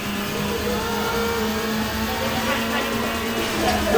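A car engine in the Need for Speed racing game drones steadily and loudly for several seconds, with a constant mid-pitched hum and a slight rise toward the end, and a voice can be heard faintly underneath.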